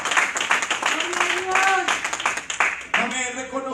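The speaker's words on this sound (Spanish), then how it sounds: "¿Cuánto dan ese aplauso a la gloria del Señor?" Church congregation applauding to the glory of the Lord, a dense patter of clapping blended with cheering voices and shouts, steady and close throughout.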